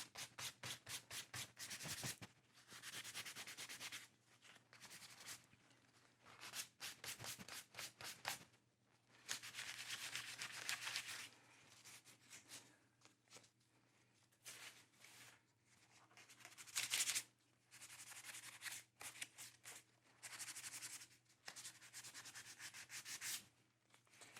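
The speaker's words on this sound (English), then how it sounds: "We'll go in now with the 400 grit sandpaper." Sandpaper of 400 grit rubs across veg tan leather in repeated light strokes, a close, soft raspy scratching in bursts of quick back-and-forth passes with short pauses between.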